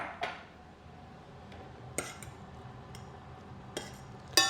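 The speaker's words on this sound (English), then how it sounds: "And you just toss that around until the egg has softly cooked" Hot spaghetti and raw egg for carbonara are tossed in a bowl, giving faint, sparse clinks and taps of utensils against the dish over a quiet background, with a brighter clink at the end.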